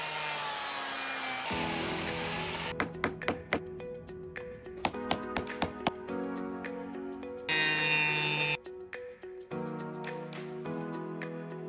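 Wood panels being cut to size for a camper van's pull-out bed and platform, with a steady whining saw running continuously, interrupted by sharp taps and knocks and shifting tones as the cut changes, close and loud throughout.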